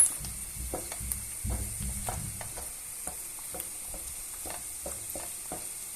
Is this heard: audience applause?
no